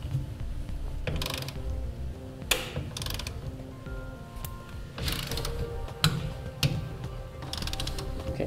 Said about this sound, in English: we'll go ahead and torque them down as specified in the instructions